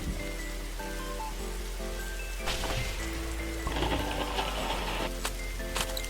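Rain falls in the survival video game 99 Nights in the Forest, giving a steady hiss with scattered droplet patters and a few sharper bursts, joined by faint low game tones.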